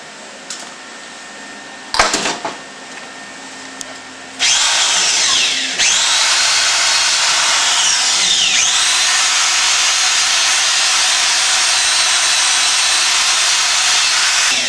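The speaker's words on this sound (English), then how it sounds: "You can also use a buffing wheel if you wish." A buffing wheel works a clutch part, a loud continuous high whine that starts after a few seconds of quieter shop noise with a brief burst of contact, then holds steady without talk.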